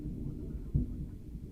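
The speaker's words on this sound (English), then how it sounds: "Ooh, we have some thunder outside." Thunder from a storm rumbles outdoors, heard from indoors as a faint low roll with one brief swell in the middle.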